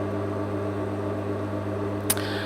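An electric sewing machine hums steadily while warming up before stitching a shaped unlined pocket, a close, even motor drone with one brief sharp click near the end.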